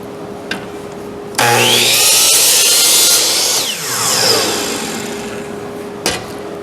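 A power saw making miter cuts in wainscot trim in a workshop, spinning up into a loud, sustained whine as it bites through the wood for a few seconds, then winding down, with no talk.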